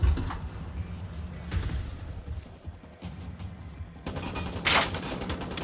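Generation Zero gunfire crackles in bursts of sharp shots, fairly close and steady across the stretch, with little talk over it.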